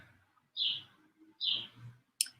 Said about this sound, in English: We have our garage door open, so you can probably hear the birds and the cars,